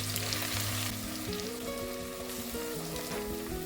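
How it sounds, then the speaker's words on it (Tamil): Thinly sliced medium onions frying in hot oil for a mutton biryani, a dense close-up sizzle and crackle with constant bubbling, loud and unbroken, no voices. "வெங்காயம் நல்லா கோல்டன் ப்ரௌன் அளவு வதங்கணும்."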